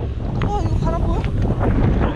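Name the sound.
strong wind blowing on a mountain top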